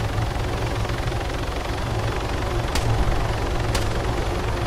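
Heavy HEMTT military truck off-roading in Arma 3, a loud steady engine drone with deep throbbing low rumble that holds constant throughout, two brief sharp clicks cutting in partway through.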